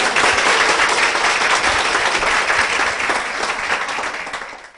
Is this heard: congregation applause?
yes